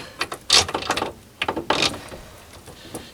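The half nut of a mini lathe apron slides over the lead screw with a short series of close metallic clicks, scrapes and clunks in quick irregular bursts.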